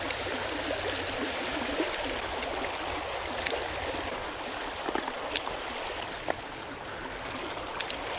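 A mountain stream in Arkansas rushes steadily over rocks, a constant broadband wash of flowing water with occasional small splashes and gurgles standing out near the bank.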